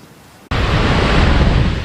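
Hurricane Ida, a Category 4 storm, lashing Louisiana with fierce winds and storm surge: a sudden burst of loud, roaring wind and rushing water noise that starts abruptly after a quiet moment and stays constant.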